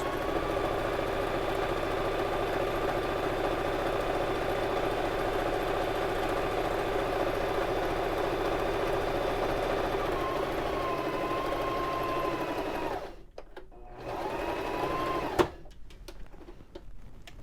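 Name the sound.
Baby Lock Zest sewing machine stitching long edge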